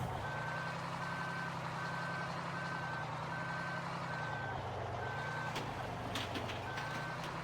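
A truck in Farming Simulator 15 reverses with a steady, evenly spaced backup beeper sounding over a constant low engine rumble, with a few brief clanks near the end and no talking.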